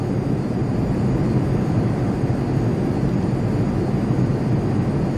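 Constant loud roar of an F-15 fighter's jet engines in the flight game Microsoft Flight Simulator X, a steady dense rumble with no breaks and no voices.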